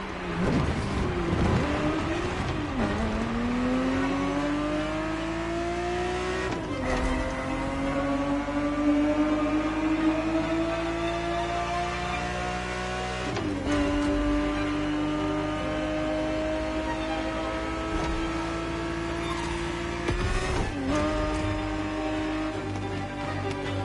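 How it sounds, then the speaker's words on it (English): A Ferrari 365 GTB4 engine in a racing video game, revving loudly through repeated rising gear pulls, each climb broken by a quick shift before the pitch builds again, continuous and close with no talk. "The Ferrari 365 GTB4 is the perfect vehicle for you to experience Ferrari racing as it felt back in the 70s"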